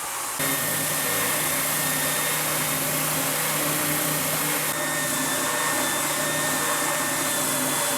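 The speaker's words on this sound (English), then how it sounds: "Let's get the spindle sander cranked up and get this done real quick." Spindle sander running steadily while shaping a guitar neck part in a woodworking shop, a continuous loud motor hum with a whining tone and no talking.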